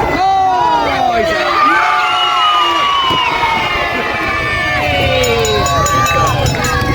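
A loud crowd at a Santa Pod drag racing event, with many overlapping shouts and cheers, some of them children's voices, filling the whole stretch over a steady low rumble.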